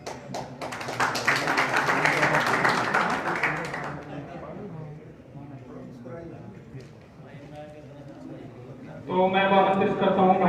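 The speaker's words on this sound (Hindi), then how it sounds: "एक बार जोरदार तालियों से उनका स्वागत करें" An audience at a Rajput Mihirbhoj Jayanti gathering breaks into brisk applause that fades under speech, then a loud tonal burst of music or voices rises at the end.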